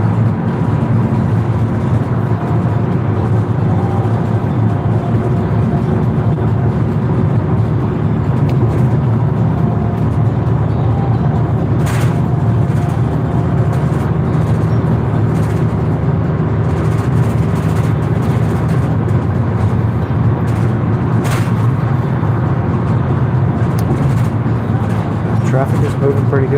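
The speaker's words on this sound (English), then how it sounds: "Traffic is moving pretty good today." Road traffic rumbles steadily from inside a moving car, a constant low engine and tyre drone lasting throughout, with someone talking over it.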